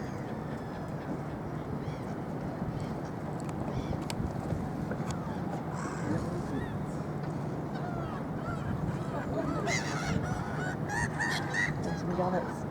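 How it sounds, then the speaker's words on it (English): Gannets call near London Bridge by the Shard at night, a loose chorus of harsh honking cries over a constant outdoor city and river rumble, with people talking faintly at times. "There's some gannets."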